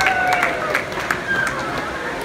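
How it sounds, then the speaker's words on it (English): Audience applause at a folk music reception, a steady patter of many hands clapping at moderate loudness, with crowd chatter and a voice running underneath. "Let's give them a round of applause."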